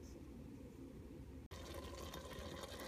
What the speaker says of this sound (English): I have to add the lemon juice.